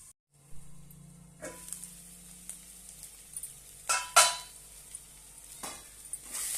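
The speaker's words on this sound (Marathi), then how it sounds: "आता आपण याच्यावर झाकण ठेवून 2 मिनिटं शिजवून घेऊया।" Methi bhaji cooks under a lid in a pan, a low, quiet sizzle with a few soft knocks and clinks of the lid or utensil, close by and with no voices.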